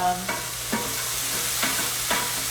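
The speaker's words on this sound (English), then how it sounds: "with the olive oil, it gets a little splattery" Hot olive oil sizzles steadily as frozen cranberries fry, with a few sharp pops and spatters breaking through at irregular intervals, close and fairly loud.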